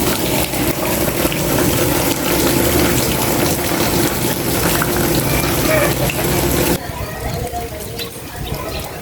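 Rainwater pours down steadily outdoors, a loud continuous rushing and splashing that drops suddenly to a softer flow near the end.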